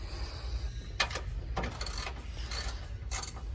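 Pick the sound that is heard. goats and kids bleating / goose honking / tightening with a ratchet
tightening with a ratchet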